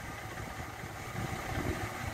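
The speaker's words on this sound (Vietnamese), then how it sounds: "Máy nổ rất là tròn tiếng và chắc chắc máy bác nhé, không rung nhé." A 2008 Daewoo Gentra car engine idles steadily and smoothly, a low, even mid-pitched hum with no talking, recorded close but fairly quiet.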